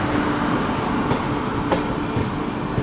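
The AP Express from Visakhapatnam pulls into New Delhi railway station, heard from on board as a steady, loud rolling rumble with faint wheel clicks and no voices.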